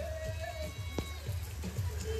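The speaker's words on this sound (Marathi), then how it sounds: "एकदम जोरात पाऊस चालू झालेला आहे।" Heavy rain falls steadily at a farmhouse, a dense, continuous patter with a few louder drops standing out close by, and no voices.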